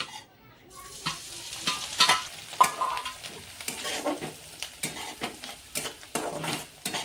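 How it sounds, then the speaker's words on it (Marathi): Crushed peanuts fry in a pan and a spoon stirs and scrapes through them. A soft sizzle runs underneath a steady series of close scraping and clinking strokes, with no voices. "आपलं शेंगदाण्याचं कूट छान असं फ्राय व्हायला लागले"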